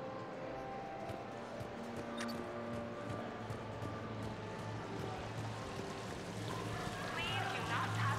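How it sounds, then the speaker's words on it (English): A decorative indoor fountain waterfall at the Citadel in Mass Effect 3 pours in a steady, fairly quiet wash under soft background music and ambience. "Please do not touch the waterfall. The fountain is decorative."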